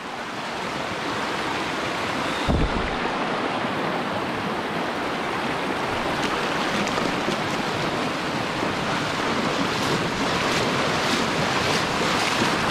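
A strong current at Los Chorros in the Huasteca rushes in a loud, continuous roar of water, with gusts of wind buffeting the microphone and a sharp thump near the start.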